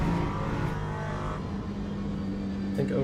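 An LMP3 prototype racing at Silverstone in Le Mans Ultimate drones steadily at high revs throughout, a loud continuous engine whine with a brief shift in pitch near the end.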